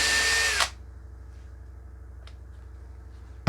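A power drill backs a screw out of plywood in one loud whirring burst of about half a second with a falling whine. Quiet follows, then a short knock at the end.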